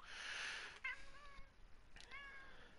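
A cat meows twice, close and clear, with the second call coming about a second after the first over a faint background hiss.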